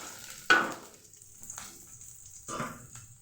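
Onions fry in a pan for pulihora, with two sharp bursts of sizzling and stirring that fade into a quiet background hiss.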